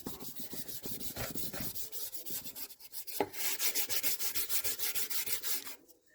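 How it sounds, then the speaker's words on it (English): Steel wool scrubbed back and forth over corroded, pitted metal on a '64 Comet, a steady run of close, rhythmic rubbing strokes with a brief clack partway through. "as you go over this like that with the steel wool, you can get a lot of the pitting out from the corrosion"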